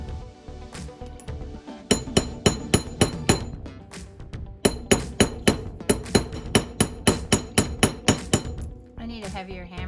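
A hammer strikes a sterling silver ingot on a hard surface to flatten it into sheet, sharp metallic clinks in quick regular runs of about a dozen blows, with a short pause between runs, close and loud.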